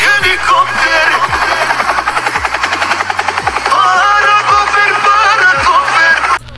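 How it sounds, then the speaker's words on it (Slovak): A helicopter in the Roblox game makes a loud, rapid rotor chop with a steady rhythmic pulse and mechanical whine that persists for several seconds before cutting off at the end. "Helikopter."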